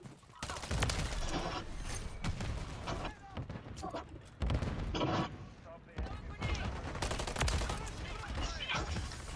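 Dense, continuous gunfire and explosive bursts from grenades in the shooter game Call of Duty: Modern Warfare 3, loud and sustained with overlapping rapid shots and booms, with players talking over the battle.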